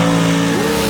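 A Chevy S10 dirt drag racing truck at a dirt drags event revs hard on the line, a loud, close engine note with a tone rising sharply over a single second.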